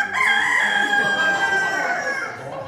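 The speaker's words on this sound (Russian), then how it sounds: "Да, он еще и ночью кукарекает." A rooster crows indoors, one drawn-out, strained cock-a-doodle-doo held for over two seconds, close and fairly loud, fading at the end.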